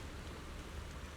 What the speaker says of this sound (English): Oh, and now it's suddenly raining.